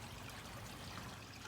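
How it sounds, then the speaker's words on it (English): Water runs steadily from an aquaponics system into grow beds and back to a sump tank, a continuous close trickling and splashing flow with no voices. "All three grow beds have the water flowing to them, and they all three have the water coming back to the sump tank."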